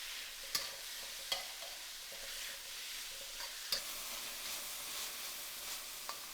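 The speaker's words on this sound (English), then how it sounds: "Stir fry that for about 3 to 4 minutes until the pork is lightly browned." Strips of pork sizzling in a hot wok while being stir fried, a steady crackling hiss with occasional sharp ticks from the utensil against the pan, close and moderately quiet, with no voices.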